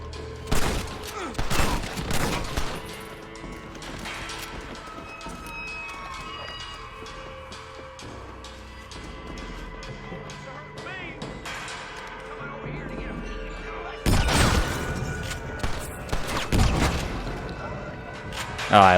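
Bursts of gunfire and shotgun blasts in a shootout in the video game Red Dead Redemption, loud clustered volleys at the start and end with a calmer stretch between, while someone talks over it.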